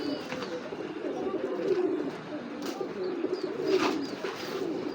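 Pigeons sold as racer and fancy breeds coo in low, repeated rolling calls, fairly close and moderately quiet, with faint background noise and a few brief sharper sounds.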